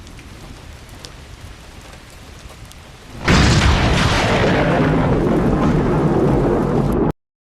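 Heavy rain of a thunderstorm at night, first a softer patter, then a sudden loud downpour that roars steadily for several seconds before cutting off.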